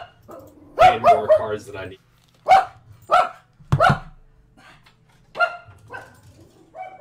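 A dog barks and yips in short bursts nearby while people chat over a Hearthstone card game, the barks mixed in and overlapping with the talking.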